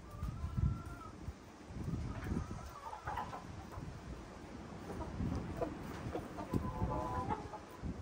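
Several hens and a rooster clucking and murmuring nearby in a low, busy chorus, with rustling movement throughout, on a farm.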